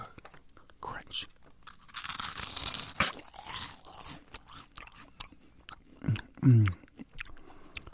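A snack gets bitten and crunched close to the mic in a few sharp bursts, with a louder crunch near the end, amid quiet room noise and breathy sounds.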